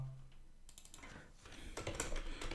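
Typing on a computer keyboard, with quiet scattered keystrokes at first, then a denser burst of clicking that grows louder toward the end.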